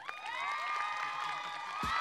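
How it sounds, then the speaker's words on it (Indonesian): A school audience at a stand-up comedy show cheers and whoops, overlapping voices rising and falling in a fairly distant, moderately quiet swell. "tepuk tangan untuk Mas Wira"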